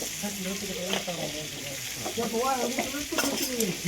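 Steady sizzle of fish frying in an iron pan with occasional stirring scrapes, while a voice talks over it throughout.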